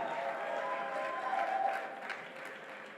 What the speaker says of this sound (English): So your applause should be louder